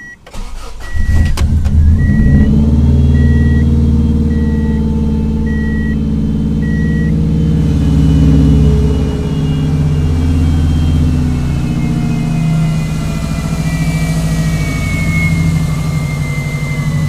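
A 1994 Subaru Legacy Turbo with a 5-speed conversion cranks briefly and catches, then settles into a loud, steady idle up close, its low rumble continuing unbroken with no one talking.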